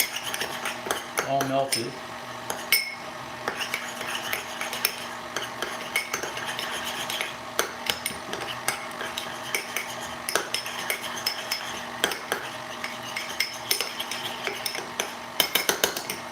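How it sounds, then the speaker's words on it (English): A spoon clinks and scrapes steadily against a bowl while stirring melted chocolate at a live baking session, with repeated metallic taps throughout and a person talking briefly. "Give that a quick little stir so it's"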